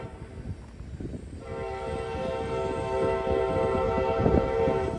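A train on the Elkhart rail line sounds a sustained, loud multi-tone horn that builds in over rumbling wheel and track noise, staying close and steady to the end.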